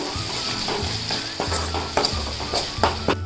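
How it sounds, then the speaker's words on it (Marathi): Tomatoes fry in a pan for misal, a steady close sizzle with repeated scraping and tapping as a spoon stirs them, the clanks coming in a loose rhythm. "टोमॅटो टाकते टोमॅटो थोडा मऊ करून घेते"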